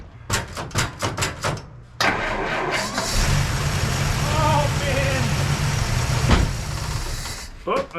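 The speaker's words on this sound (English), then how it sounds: "Stalled out, probably because the carb is not getting gas yet, but yeah, that fired right up." A 1954 Plymouth Savoy engine cranks in a rapid series of starter bursts, catches and runs roughly for several seconds, then stalls, followed by a brief final crank; close and loud.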